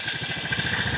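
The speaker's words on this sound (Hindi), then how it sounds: "दोनों बाइक स्टार्ट हो गया" Two motorcycles hitched to an e-rickshaw run at idle after starting, a close, steady chugging rumble with even low pulses throughout.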